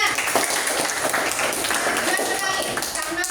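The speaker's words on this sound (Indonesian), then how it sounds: "Iya, tepuk tangan." Classroom applause from students in an Indonesian lesson, a busy wash of clapping that holds steady across the moment, with talk and room noise mixed in.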